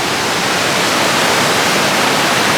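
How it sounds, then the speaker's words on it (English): Bond Falls, a waterfall in Michigan, roars as a dense, constant broadband rush of falling water, loud and close with no other sounds. "Top of Bond Falls."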